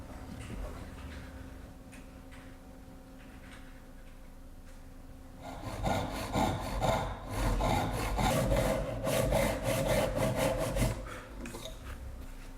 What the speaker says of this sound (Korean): 톱질을 하여 먼저 켠 다음 자릅니다.